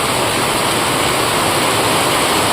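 Heavy rain pours down in a loud, dense, unbroken hiss that fills the whole scene, steady throughout with no voices.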